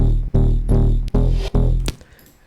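Loud, buzzy layered wavetable synth bass notes with a deep low end cut at 100 hertz, five heavy sustained hits with short gaps, then a fading tail.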